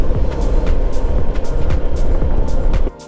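Road traffic in a jam in Bandipur forest on the way to Ooty, with a loud, steady motor rumble nearby and engines revving past, ending abruptly.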